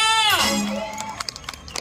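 Crowd cheering at a Rayalaseema folk song performance at the Gandikota festival: a loud rising whoop from many voices, then scattered claps and shouts in the background.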